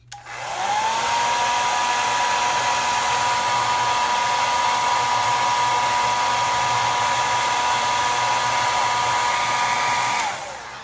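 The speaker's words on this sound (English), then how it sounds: "and then take a hair dryer to it." A hair dryer blows steadily and close by while drying a pistol grip, spinning up at the start into an even whine and rushing hiss that holds for about ten seconds before switching off.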